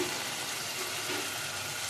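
Ginger, garlic and onion frying in a pan for a home-style tengra fish curry, a soft continuous sizzle at low volume with no voices.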